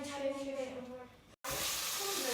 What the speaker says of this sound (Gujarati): વઘાર કર્યો, રાઈ અને જીરું અને હિંગ, અને બાકી જે મેં વેજીટેબલ્સ લીધેલા એ બધા આમાં એડ કરી દીધા છે